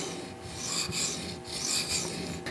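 Benchmade Griptilian knife blade stroked across Matrix sharpening stones at about 20 degrees, a close, steady rasping scrape in rhythmic back-and-forth passes.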